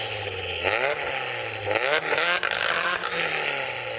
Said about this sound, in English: Go on, Luke, rev up your Silvia